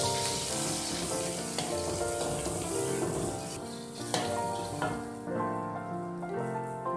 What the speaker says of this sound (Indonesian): Kita tumis bumbu halus.